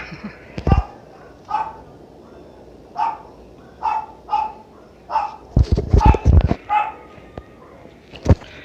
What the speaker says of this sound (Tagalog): Tapos maingay yung dog.